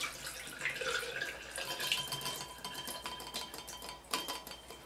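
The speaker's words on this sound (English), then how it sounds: "Pour out the developer." Film developer liquid pours and splashes out of a developing tank in a steady stream, with a few faint clinks near the end.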